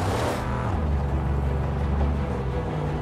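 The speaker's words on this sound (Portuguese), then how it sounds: "Esse é o carro do Chun, né" Car engine in the Mad Max video game, a loud steady low rumble that runs throughout, close and continuous, with no talk over it.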